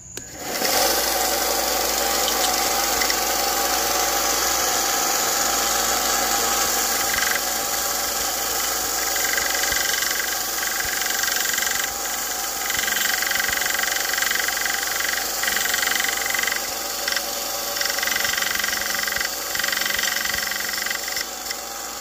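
A 1-inch belt sander with a 120-grit belt works a small triangular Zelda triforce necklace piece, giving a loud, steady motor drone with a wavering pitch and faint rattles, heard close with no talk, for the whole stretch.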